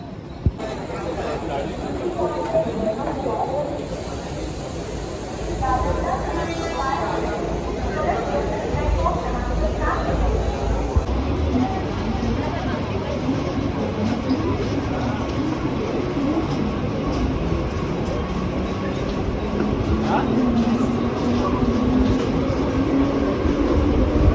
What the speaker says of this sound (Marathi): चला, ट्रेन पण आता आले.